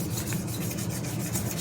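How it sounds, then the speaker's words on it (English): Steady rasping rub of sandpaper across an old KTM hardtail bicycle frame, continuous and close, with repeated back-and-forth strokes and no talking. "So I will continue sanding all the frame"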